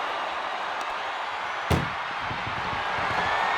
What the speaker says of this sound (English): Get them in the ambulance and slam the doors.